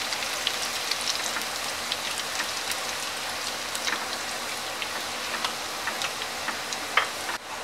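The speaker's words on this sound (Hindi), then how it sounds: "मीडियम फ्लेम पे हमने अपने लहसुन के जवे को गोल्डन ब्राउन कलर का फ्राई कर लिया है" Soft, steady sizzling of garlic cloves frying golden brown in hot oil over a medium flame, a continuous crackle dotted with small pops, fairly quiet and heard without any talking.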